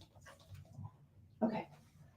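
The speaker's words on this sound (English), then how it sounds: "I do not know what she's barking at." A pet dog indoors gives a short, faint whimpering sound followed by one brief louder yelp or bark, with quiet household background around it.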